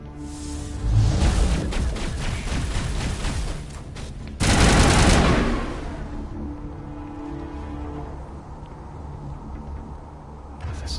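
Rapid automatic gunfire from the Mass Effect Legendary Edition game, dense bursts with a heavy blast midway, loud and close, then tapering into softer scattered shots and rumble.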